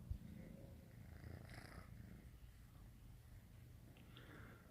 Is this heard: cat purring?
yes